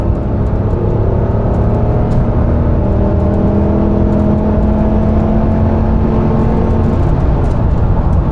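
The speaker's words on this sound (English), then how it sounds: "We'll probably light them up. The good old Italian tune-up." A high-mileage pickup truck engine revs hard and steadily for the whole stretch, loud and close, a constant droning roar with slowly shifting pitch while the tires are pushed against the brakes.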